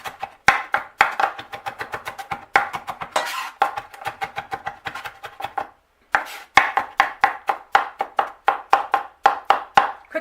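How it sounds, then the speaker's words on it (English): A knife chops garlic on a board in quick, sharp, evenly spaced strikes, close and crisp, in fast bursts with one short pause midway. "Quick chop."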